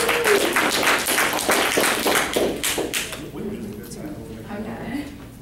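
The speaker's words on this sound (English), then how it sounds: "We'll give her an applause" An office audience at a Keller Williams Realty business planning session claps for a speaker coming up, brisk dense clapping that thins and fades toward the end.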